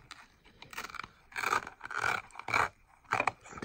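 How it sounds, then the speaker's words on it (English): Film pre-filter being peeled off the chassis of a Traxxas E-Revo 2.0 RC truck, heard as a series of dry scraping and rustling tears in uneven bursts, close up with no talking. "there's an outer wears pre-filter for the chassis, so I'll peel that off."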